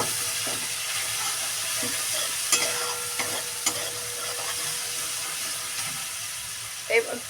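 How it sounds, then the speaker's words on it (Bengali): Palak paneer with turmeric is stirred and mixed in a pan over a soft background sizzle, with spoon scrapes and light knocks at intervals and a couple of louder taps. "দেখো এটা ভালো করে মিশিয়ে নেব"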